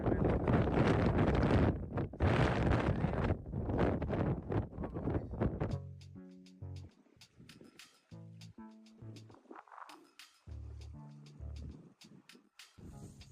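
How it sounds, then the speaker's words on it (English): Strong wind gusts buffet the microphone outdoors beside the water while fishing, a loud roaring rush for several seconds that eases off as someone talks over lighter wind. "the wind is making things a bit complicated for us"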